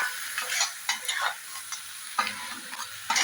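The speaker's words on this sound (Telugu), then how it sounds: "మిరియాల పొడి చల్లుకొని డ్రై రోస్ట్గా వేయించుకోవాలి" Crab fry dry roasted with pepper powder in a pan, with repeated scraping stirs against the metal over a soft sizzle, close and uneven in rhythm, no voices.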